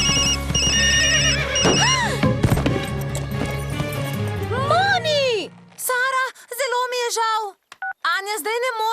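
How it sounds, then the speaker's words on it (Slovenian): A loud, shrill electronic ringtone with rapid repeated beeping tones and rising warbles plays close by, while people talk over and around it. "Sinoči sem Anji dala novo zvonjenje. Nisem vedela, kako glasno je"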